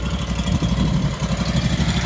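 A warmed-up engine idles steadily and close by, a low rhythmic throb with a mild uneven pulse and no revving, running alone without voices.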